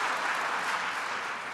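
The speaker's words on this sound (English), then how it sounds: "we can clap" A seated audience at a university conversation event gives steady, dense applause, a continuous wash of clapping throughout.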